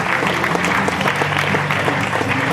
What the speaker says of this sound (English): Round of applause for John Williams.